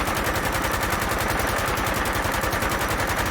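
An RPK machine gun in Fallout 4 with the AKM mod fires one sustained burst of rapid, evenly spaced shots, loud and close, with no voices.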